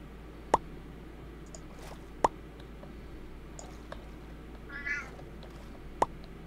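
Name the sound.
cat meowing in a Minecraft modpack video game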